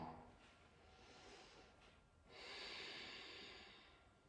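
During a yoga vinyasa flow, soft audible breathing is heard close and faint: a gentle inhale followed by a longer, stronger airy exhale, with no talking.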